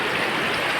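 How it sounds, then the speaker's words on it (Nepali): A cold mountain stream rushes and gurgles continuously close by during a crossing, a dense, steady watery hiss with no voices. "यति चिसो खोलामा"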